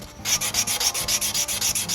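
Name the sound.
sanding wood with sandpaper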